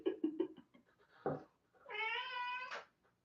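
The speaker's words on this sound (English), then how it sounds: "Is there a kitty cat over there?" A house cat meows in a long, drawn-out, nasal call near the microphone, following a few short soft sounds.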